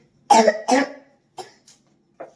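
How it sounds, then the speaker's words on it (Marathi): A child with a cold and fever coughs indoors: two strong, close coughs in quick succession, then a few fainter, shorter coughs trailing off after a pause. "तेच खोकला येते तुला सर्दी खोकला"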